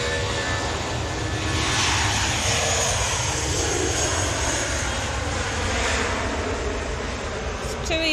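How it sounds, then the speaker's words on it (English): A SmartLinks Airbus A380 departing for Mahon gives off a loud, sustained jet engine roar that swells and sweeps through the clip, heard fairly close with a faint voice briefly underneath. "Operated by SmartLinks A380 heading to Mahon"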